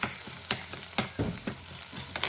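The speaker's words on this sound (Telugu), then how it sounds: "ఈ రైస్ వేసేసి జస్ట్ అలా ఒక స్టిర్ ఫ్రై చేసేస్తాను" Rice being stir-fried in a pan for fried rice, a soft sizzle broken by regular scraping tosses about every half second, close up and quiet, with no talking.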